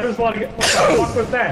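A single sharp human sneeze bursts out loudly mid-conversation among young men gaming online, with voices talking just before and after it.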